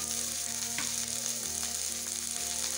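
Chopped ginger, garlic and cashew nuts frying in a pan, giving a steady, fairly quiet close sizzle with a few faint stirring touches and no speech.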